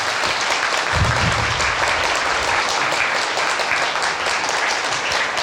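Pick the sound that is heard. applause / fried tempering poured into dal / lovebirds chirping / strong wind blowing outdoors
applause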